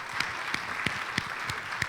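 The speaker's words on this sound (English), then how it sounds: "allow us to give you a round of applause, please?" Steady applause from a congregation at a Rosh Hashanah service, a dense wash of clapping with a few sharper claps standing out at a regular beat, sustained throughout at moderate level.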